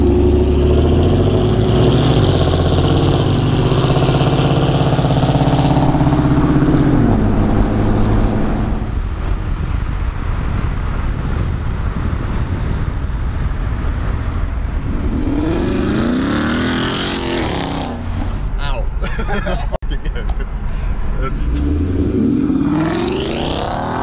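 Rare Shelby Mustang Terlingua with an 800 hp engine, driving and revving loudly, with rising and falling engine pitch sweeps, a low rumbling cruise in the middle and sharp revs near the end, close and without speech.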